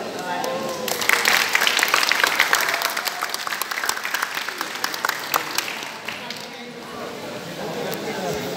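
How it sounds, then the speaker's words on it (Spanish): Applause from an audience at a contemporary art biennial event, a loud dense burst of clapping that swells early, then slowly thins and fades toward the end. "un aplauso para los ciudadanos"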